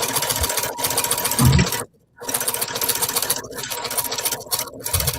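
An embroidery machine stitches letters, a fast steady mechanical chatter running close and even, with one brief pause near the middle before the rapid stitching resumes.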